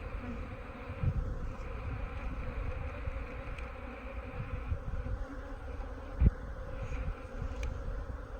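Honey bees crowd a frame pulled from a hive being readied for splits, giving a steady, close, continuous buzz with a couple of brief knocks along the way.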